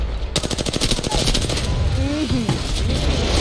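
A rapid burst of automatic gunfire in a video game rattles off, then fades into a steady noisy background with a few faint tonal sweeps.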